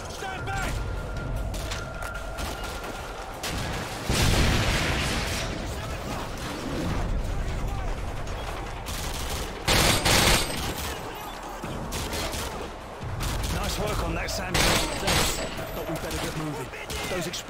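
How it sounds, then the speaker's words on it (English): Explosions and gunfire in the video game Call of Duty Modern Warfare 2, mission "Contingency", with bursts of automatic fire and heavy booming blasts coming in loud waves, mixed with game effects and voices talking throughout. "Those explosions are going to take a lot of attention."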